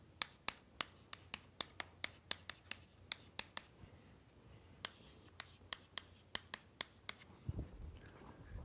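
Chalk tapping and scraping on a classroom board during a doctoral lecture, a quick irregular series of sharp strokes against faint room hiss, ending with a rustle and a low thump.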